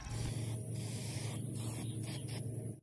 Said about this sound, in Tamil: நான் ஒரு ப்ளூ கலர் பெயிண்டை வச்சு நல்லா ஸ்ப்ரே பண்ணிக்கிறேன்